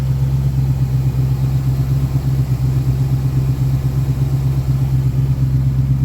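A 1969 Ford Mustang Mach 1 engine idles with a steady, deep rumble, continuous with a low, even throb and no other sounds.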